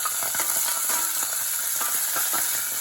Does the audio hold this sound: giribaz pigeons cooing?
no